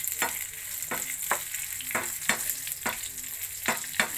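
Tempering ingredients for raw mango chitranna sizzle in a hot pan, with a continuous frying hiss broken by regular scraping stirs roughly every half second.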